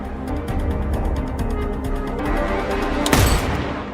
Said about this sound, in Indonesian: tetap saja tembakan Chris melenceng 2 meter dari si Dragon